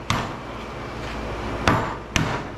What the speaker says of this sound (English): Hit it here with the back of the hammer to open it up.